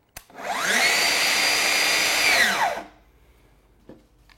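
A Festool TSC55 cordless plunge saw spins up, runs unloaded for about two seconds at a steady, somewhat lowered whine at reduced speed, then winds down, followed by a couple of faint clicks.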